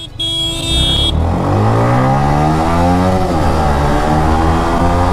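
Yamaha MT motorcycle accelerating hard at full throttle, the loud engine note climbing steadily in pitch, easing briefly, then rising again, close and continuous without speech.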